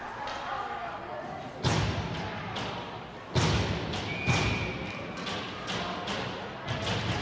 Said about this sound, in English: I can hear the sounds of frustration with the banging of a door